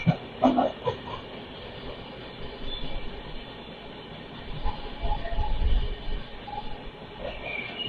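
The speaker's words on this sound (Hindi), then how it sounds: "भुवनेश्वर से तो अपनी ट्रेन निकल चुकी है" The Nandankanan Express rolls out of Bhubaneswar as a steady rumble of rail travel, heard from inside a 2nd AC coach, with soft wheel clatter, hiss and occasional low thumps from the carriage.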